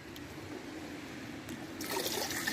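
Water trickling steadily from a natural spring at an outdoor camp in freezing cold, a soft continuous dribble that grows fuller and brighter toward the end, with no voices.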